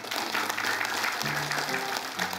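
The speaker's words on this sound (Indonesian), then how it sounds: "boleh tepuk tangan" Steady applause from a room full of people at a religious lecture, clapping evenly throughout with a faint hum underneath.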